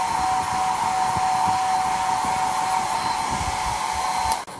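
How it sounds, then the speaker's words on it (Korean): A hair dryer blows steadily on hand-painted fabric paint on a T-shirt, with a loud, constant whooshing hum and a high whine, cutting off abruptly near the end. "다리미로 바로 다리시면 이게 퍼지시니까 드라이기로 충분히"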